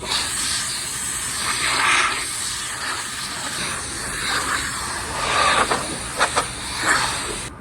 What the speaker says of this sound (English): I want to blow out all the cracks and just the panels in general and everything around the panels